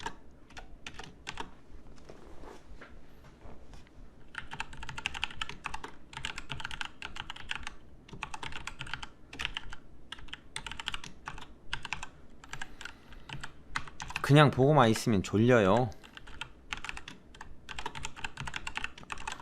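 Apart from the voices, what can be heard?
computer keyboard typing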